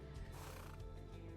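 A war steed whinnies in the fantasy online game The Lord of the Rings Online, a short, faint neigh over a dense, steady game background.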